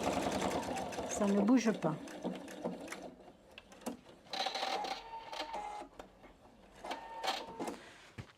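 A PFAFF Expression 720 sewing machine stitches a fabric pouch in short mechanical bursts of rapid clatter, separated by pauses where someone speaks quietly in French.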